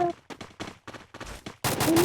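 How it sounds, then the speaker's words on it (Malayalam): A string of sharp firecracker bursts in quick irregular succession, loud and close, ending in a dense crackling volley. "ഞാൻ തീർക്കും വെടി പൊട്ടിച്ച് കളിക്കുന്നേ"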